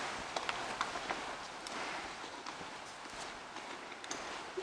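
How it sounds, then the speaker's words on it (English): Faint, soft hoof steps of a miniature horse walking outdoors on arrival in La Crosse, Wisconsin in February, a few irregular clops over a steady hiss of background noise. "This thing's like a miniature horse."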